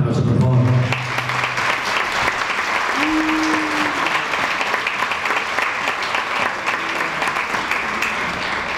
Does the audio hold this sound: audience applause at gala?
yes